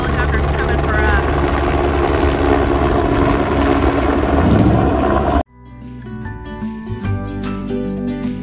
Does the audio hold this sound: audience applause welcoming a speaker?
no